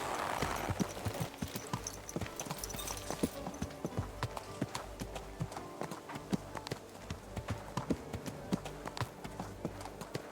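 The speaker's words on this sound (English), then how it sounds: "Someone's been pampering this horse." A horse's hooves clip-clop steadily in a video game, evenly paced thuds at close range against faint ambient background, with no voices.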